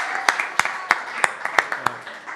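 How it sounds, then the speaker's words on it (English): Audience clapping after an academic talk on jazz and place, heard as a series of sharp, evenly spaced claps over a steady background murmur, fairly close and moderately loud. "Another round of applause."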